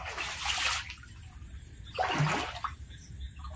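Severe floodwater pours inside a house, rushing and splashing in two strong surges, with a softer trickle continuing between them.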